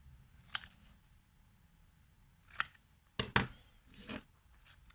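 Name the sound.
cutting out a printed image on thick paper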